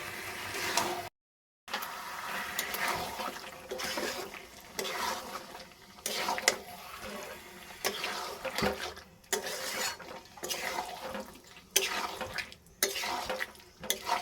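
Fried potatoes stirred into chicken curry in a pot, with a spoon scraping and clattering against the metal in irregular bursts over a soft background sizzle, with a few short pauses.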